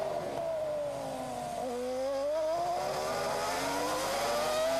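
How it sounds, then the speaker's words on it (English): A Toyota Formula One car engine at the 2002 Canadian Grand Prix, its traction control making it stutter as if misfiring. The loud, steady engine drone dips briefly and then climbs in pitch as it revs back up. "You can hear the traction control working on the engine. That sound as if the engine's misfiring, but that's all programmed in to increase the traction"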